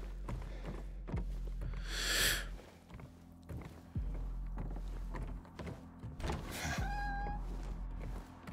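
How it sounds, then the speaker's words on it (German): Strange cat-like creature cries in the video game Silent Hill 2 Remake, two drawn-out wailing calls between heavy thuds and clattering game sounds, moderately loud with no talking. "Sie anhört wie eine Katze."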